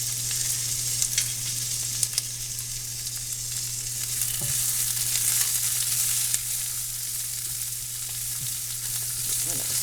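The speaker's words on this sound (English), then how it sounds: "I'm going to saute those onions until they start to brown a little bit." Onions sautéing in a pan for a pantry beef curry give a steady, close sizzle that carries on throughout, with a few faint clicks and a low hum underneath and no talking.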